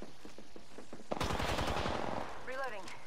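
Automatic weapon fire in the Apex Legends video game, a rapid close burst of shots with distant game effects, then a short whooshing ability sound.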